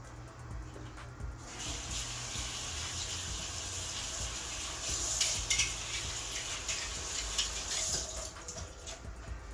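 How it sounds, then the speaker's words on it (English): A spoon being rinsed under a running kitchen tap, a steady flow of water with light clinks of metal against the sink, fairly quiet and close. "let me rinse my spoon off"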